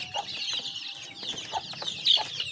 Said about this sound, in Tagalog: Check muna tayo sa ating mga alagang manok, sa ating mga sisiw.